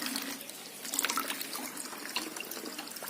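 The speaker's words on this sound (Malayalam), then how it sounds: "ഇതിനകത്തേക്ക് വെള്ളം ഒഴിച്ചു കൊടുക്കുക" Water pours into a container for breeding betta fish, a steady close trickle and splash running throughout.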